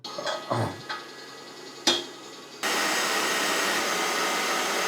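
An electric mixer starts up whipping egg whites into meringue for a pavlova, a loud steady whirring drone that begins after a few knocks and clatters of bowl and utensils.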